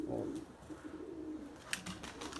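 Pigeons coo in low, repeated throaty phrases close by in a loft where a crested blue male has just arrived, with a few faint bright chirps near the end.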